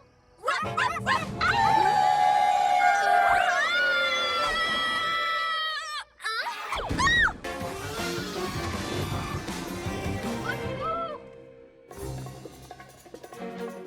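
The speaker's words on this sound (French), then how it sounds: "Farfelou, prêt pour un hurlement garou?" Cartoon werewolf howl from a children's animated series: a long, loud, sustained howl with wavering pitch, followed by further yipping, howling cries and a more chaotic burst of voices and effects.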